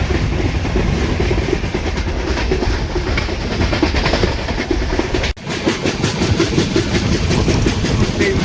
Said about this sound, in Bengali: দেখো আমাদের এখন ট্রেন কিন্তু ক্রস করছে